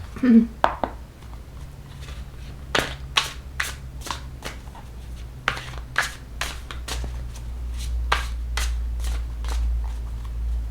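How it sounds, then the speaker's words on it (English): Cards from a Christ Consciousness oracle deck are shuffled and pulled in a run of crisp, close riffling snaps and flicks, irregularly spaced, with a little talk at the start. "Let's pull a couple of more cards from the Christ Consciousness deck."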